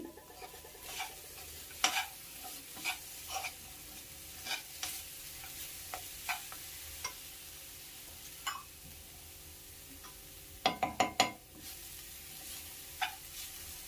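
Jaggery pongal made with flattened rice and cardamom powder being stirred in a pot, with scattered scraping clicks and a cluster of quick knocks near the end over a faint low sizzle.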